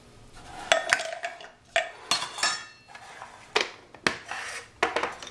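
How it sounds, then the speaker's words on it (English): Spoon scraping and clinking against a bowl while a mustard pickle mixture is stirred to break up the mustard, in short irregular bursts of scraping and knocks, close and alone. "So I'm going to try and mix this up a little bit. Break that mustard up."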